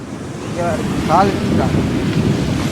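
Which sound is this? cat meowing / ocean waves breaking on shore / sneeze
ocean waves breaking on shore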